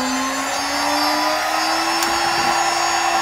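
CNC spindle driven by a VFD inverter, spinning up at about 20,000 rpm with a steady high whine and hum, close and continuous, with a single brief click partway through.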